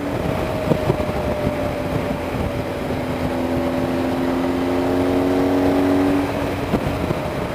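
A motorcycle engine drones steadily while riding at speed on a road near Seaville, New Jersey. The hum is close and continuous, swelling slightly midway, with wind rush throughout.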